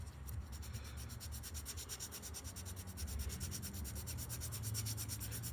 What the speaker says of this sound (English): I'm gonna sand on this side, and we're gonna sand on the back of the wing